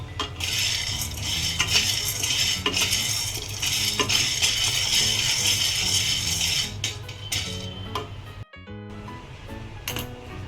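Chickpeas roasting in a pan over a medium gas flame are stirred with a utensil, making continuous rattling, scraping and clinking of the hard chickpeas against the metal, close and busy, with one brief pause near the end.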